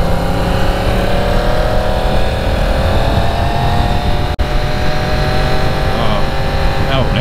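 A 2018 Yamaha R1 motorcycle pulls away under throttle, a steady close engine roar with rising harmonic lines, continuous across the clip with a brief dropout near the middle; a voice talks over parts of it.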